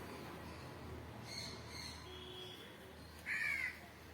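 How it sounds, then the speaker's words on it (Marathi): A single crow gives a short caw from a tree in the morning, faint against a steady outdoor hiss and low hum, with a few weaker calls from other birds earlier. "इकडं झाडं लय असल्यामुळं कावळं पण लय येते सावलीला"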